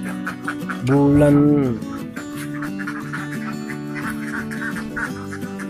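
Laying ducks on a farm quack in a loud, nasal burst near the start, then keep up a steady chorus under someone talking.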